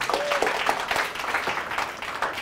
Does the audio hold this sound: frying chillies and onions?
no